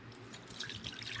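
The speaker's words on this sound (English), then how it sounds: "I'm going to strain these off with cheesecloth" Herbal tinctures of lemon balm in witch hazel and yarrow in alcohol drip and trickle softly through cheesecloth in a short, faint, close-up burst of liquid.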